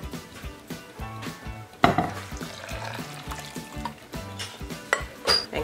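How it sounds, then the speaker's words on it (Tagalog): Glutinous rice flour and sugar mixture stirred by hand in a large bowl, heard as a rhythmic scraping and swishing at a regular pace, close by, with a sharper knock partway through and no talking. "And continue lang natin ang paghalo hanggang maging smooth and lump-free"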